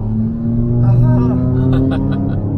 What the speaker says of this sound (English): BMW M3 just taking by